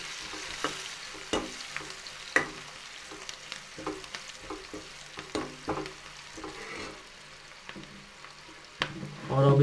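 Mustard greens frying with red chilli powder in a pan, stirred with a utensil that gives repeated clacks and scrapes over a low sizzle, close and uneven in rhythm, ending in a louder clatter.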